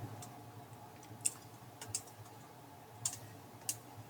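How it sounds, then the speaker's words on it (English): Several quiet, sharp button taps on a calculator keypad come in a sparse, irregular series of single clicks against a low background hum, close but faint. "we're going to type in inverse cosine of square root 2"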